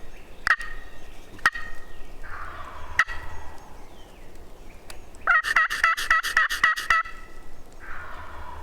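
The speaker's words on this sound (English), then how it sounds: "we had two birds right there gobbling like crazy for the last 30 minutes" Two wild turkeys gobble about 50 yards off in open woods, bursts of rattling gobbles repeating every second or so, then a fast rapid run of calls, moderately near and loud with no talk.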